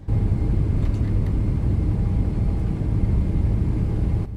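A spacecraft engine runs at maximum thrust during orbit insertion, a loud, steady, rumbling roar that holds evenly throughout and cuts off abruptly at the end, with no voices.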